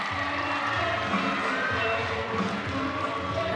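Crowd in a college gymnastics arena, North Carolina at Pittsburgh, roaring and cheering steadily after a stuck beam landing, a dense continuous wash of voices with a commentator talking over it.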